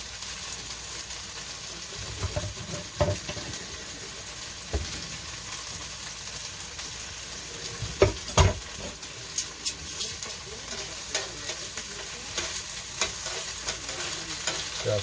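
Onions frying in a pan for a homemade West Australian kebab, a steady sizzle with occasional stirring clatter, close and moderately loud, with no one talking over it.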